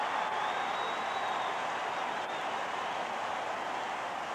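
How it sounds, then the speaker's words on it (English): A large Auburn football crowd cheering at the 1980 Iron Bowl against Alabama after a late touchdown and two-point conversion, a sustained roaring wash of cheers and applause that stays loud and steady throughout. "Listen to that Auburn crowd."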